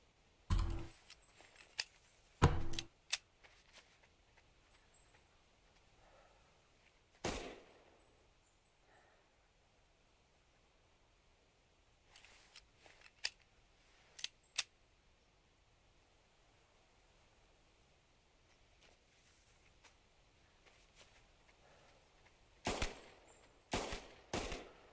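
Scattered rifle shots while hunting European rabbits in the video game theHunter Classic, a few sharp loud cracks spaced far apart with quiet stretches and faint rustling between them.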